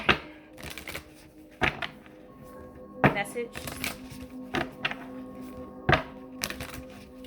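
Repeated sharp snaps and riffling clatters of a card deck being shuffled, at close range, while a person talks over them.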